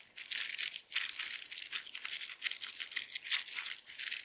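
Plastic wrapping on a Spanish military ration toothbrush being opened, a steady run of close crinkling and crushing rustles lasting several seconds with no talk.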